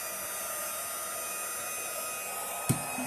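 A heat tool melting embossing powder on a Christmas tree table decoration blows with a constant whooshing drone, close and unvarying, broken by one brief knock near the end.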